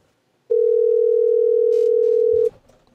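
An outgoing telephone call rings out with a single steady electronic tone lasting about two seconds, loud and clean against near silence, followed by a faint rustle.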